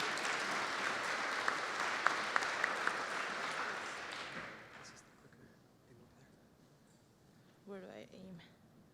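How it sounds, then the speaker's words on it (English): Broad, sustained conference-audience applause for the event's VJ, loud for about four seconds then fading out, followed by a brief spoken voice. "can we get a huge round of applause for our VJ, Ryan McKern, who's been VJing madly?"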